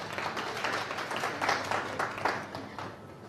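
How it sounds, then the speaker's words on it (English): An audience at a social impact summit applauds, with fairly dense clapping that swells and fades unevenly and stands alone without speech. "You can give yourselves a round of applause."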